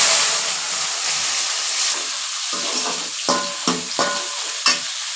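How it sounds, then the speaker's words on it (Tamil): Brinjals go into hot oil for a Tamil kuzhambu, setting off a loud, continuous close sizzle with bubbling hiss, joined near the end by a few sharp utensil scrapes and knocks as they are stirred, with no voices. "எண்ணெய் ஊற்றி வச்சுருக்கோங்க. இந்த கத்திரிக்காய் இதில் போட்டு"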